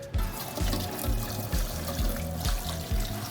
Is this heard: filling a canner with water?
yes